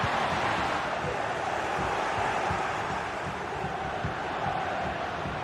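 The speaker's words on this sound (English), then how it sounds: "The crowd urging him to shoot." Football stadium crowd at a Milan match roaring steadily, urging a player to shoot during an attack; a dense, continuous wall of crowd noise with no break.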